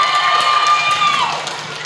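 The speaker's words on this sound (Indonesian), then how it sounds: "Tepuk tangan buat Kakak Ashabi." Children at a TKA/TPA Quran kindergarten gathering before Ramadan cheer and clap for a student speaker in a brief, loud burst of young voices that fades slightly.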